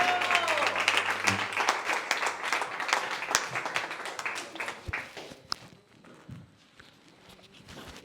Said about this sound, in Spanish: recibamos con aplausos a la bendita palabra